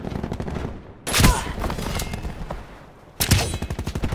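Automatic gunfire in a shooter video game sounds as loud rapid bursts of shots, one long burst followed after a pause by another, with faint game noise between.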